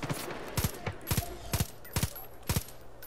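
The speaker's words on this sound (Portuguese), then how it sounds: "o barulhinho do silenciador, ele não muda tanto assim o barulho da arma" A silenced gun fires in the video game Far Cry 5, sounding as sharp, evenly spaced shots, many in quick pairs, each a crisp punchy crack standing alone over a quiet game background.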